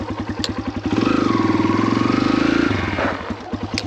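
A Kawasaki KLX140RF dirt bike is ridden on a trail, its single-cylinder engine chugging close by, revving up in a sustained steady burst, then dropping back to a lumpy idle as the front brake is tested.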